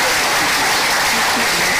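Brief burst of dense clapping at an official inauguration ceremony for a committee, loud and close, greeting a government minister.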